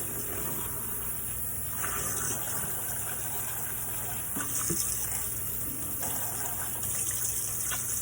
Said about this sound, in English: I'm going to go ahead and rinse our bin